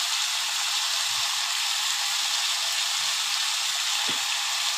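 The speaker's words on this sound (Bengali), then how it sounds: "দেখো বন্ধুরা, আমি উচ্ছে ভাজাটা বসিয়ে দিলাম।" Sliced bitter gourd fries in a pan of hot oil, a dense steady hiss and crackle running unbroken throughout, close up, with a faint utensil tap near the end and no speech.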